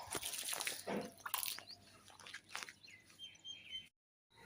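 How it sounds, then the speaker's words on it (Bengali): Water is poured over a home balcony floor and its potted plants, including a rose bush, making a steady splashing and trickling with birds chirping nearby, then a brief silence before the splashing resumes. "পানি দিয়ে ভিজে দিতেছি বারান্দা"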